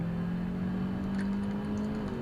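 A small-engine car accelerates with a steady, close engine hum whose pitch climbs slightly, running alone without talk.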